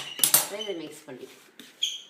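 A utensil stirring a sweet syrupy mixture in a metal pan, making a few clinks and scrapes against the metal, with a person talking alongside.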